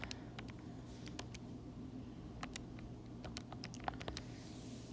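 Buttons pressed one after another on a calculator, a quick irregular run of light clicks and taps over a steady low background hum.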